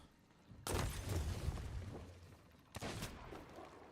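Sniper fire in the pirate video game Sea of Thieves, two sharp loud shots each followed by a rolling, crackling tail, with quiet game ambience between them.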